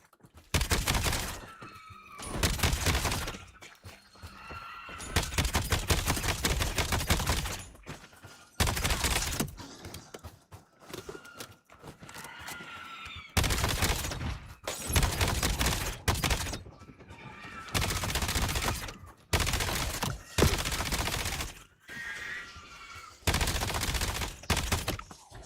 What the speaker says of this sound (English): Literally have to tap fire this gun.